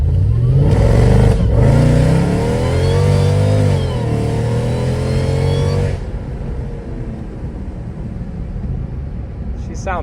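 A Mercedes E55 AMG accelerating hard after maintenance and mods: a loud, close engine roar climbs through the revs with a gear change partway through, then settles into a lower cruising drone and road noise.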